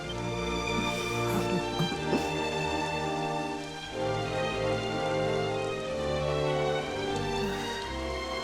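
Rain in the Dragon Quest XI video game, a steady wash of falling drops blended with sustained orchestral music, continuous and fairly loud throughout, with no voices.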